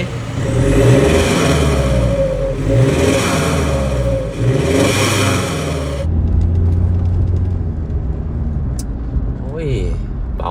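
A Mitsubishi Pajero engine with an ECU tune and electric throttle controller revs up and down in close, deep surging pulls, then settles to a lower drone; voices are heard briefly near the end.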